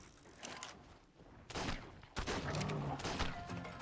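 Gunfire from shooting a creature in the video game ARK: Survival Ascended, heard as a few sharp broadband bursts with rumbling in-game ambience between them, moderately loud, without speech over it.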